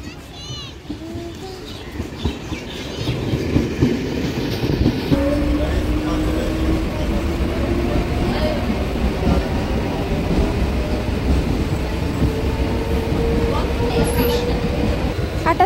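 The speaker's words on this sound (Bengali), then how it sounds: "এই 8টা বাজে ট্রেন ঢুকছে।" The 8 o'clock commuter train pulls into a station, its rumble and screech lasting throughout with a long, gliding metallic squeal. Voices and crowd noise from the platform sit underneath.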